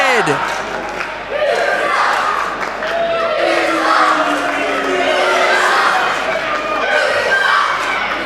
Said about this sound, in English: Resounding chants of "you suck" from the crowd